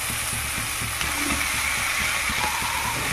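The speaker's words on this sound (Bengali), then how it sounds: "এবার আমি ছোলার সঙ্গে খুব ভালোভাবে শাকটা মিশিয়ে নেব" Kolmi greens and chickpeas frying in a pan give off a steady, close sizzle, with soft scraping and stirring knocks underneath and no talk.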